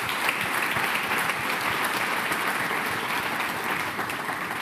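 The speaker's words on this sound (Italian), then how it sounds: "Un grande applauso agli amici del club dedicato a Beppe Scianimanico." Studio audience applause for a football supporters' club on an Italian TV sports show, steady dense clapping at full volume throughout with no break.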